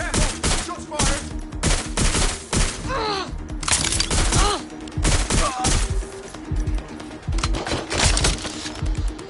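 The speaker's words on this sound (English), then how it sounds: "Shots fired!" Rapid bursts of gunfire crackle through a street shootout in Watch Dogs: Legion, sharp repeated shots in uneven volleys over several seconds, with shouting voices and bird coos mixed in.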